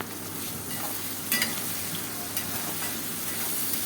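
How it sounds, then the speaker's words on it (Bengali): Prawns fry with onions in hot oil in a pan, a steady close sizzle with occasional stirring scrapes and brief sharper clinks, no talking. "চিংড়ি মাছগুলো বেশ ভাজা ভাজা করে নেব।"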